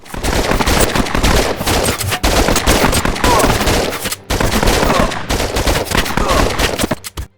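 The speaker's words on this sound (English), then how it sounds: "Sometimes when the enemies shoot at me, there will be this big loud static noise that doesn't sound like a gunshot at all" Enemy gunfire in the VR game Operation Serpens: dense, loud bursts of automatic shots crackle almost nonstop, with brief gaps, sounding harsh and static-like rather than clean gunshots.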